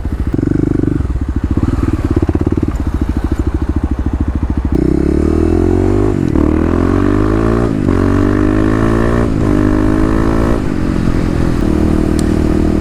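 Kawasaki KLX351 dirt bike with new Pro Taper handlebars being ridden, its single-cylinder engine loud and close, steady chugging that climbs through rising revs and gear changes, wind noise over it.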